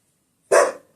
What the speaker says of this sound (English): He's barking at me because he can't reach me.